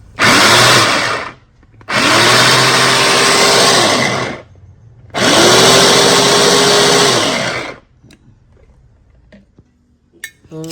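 Electric food chopper whizzing curry leaves: three loud, close motor bursts of a few seconds each with a whirring, rising-then-falling whine, separated by short silences, followed by faint clinks and handling noises.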